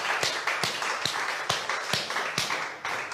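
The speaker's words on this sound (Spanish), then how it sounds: "Vamos a dar un aplauso a Dios." Congregation clapping in a church service, with irregular sharp claps repeating over a steady background of hands and room noise, close and moderately loud, no talking.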